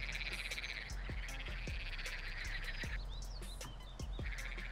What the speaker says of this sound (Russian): Лягушки вот квакают, им хорошо здесь жить в этом моде, да?